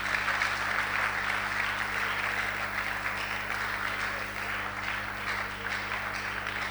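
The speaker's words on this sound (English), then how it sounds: "clap for organizers for doing this thing" Audience at an orientation of newly admitted Accra Academy students applauding the organizers, a steady wash of clapping from a crowd at moderate loudness over a low hum, with no talking.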